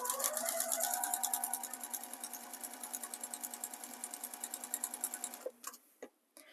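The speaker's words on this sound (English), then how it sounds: "I am machine stitching" A sewing machine stitches binding onto a quilt with a rapid, even close chatter that slows slightly and stops near the end, followed by a few clicks.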